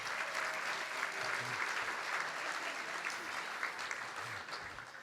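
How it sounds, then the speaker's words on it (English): Steady audience applause at a leadership awards event celebrating a new leadership center, a dense wash of clapping that holds evenly for about five seconds before easing slightly at the end. "How about a nice round of applause for that?"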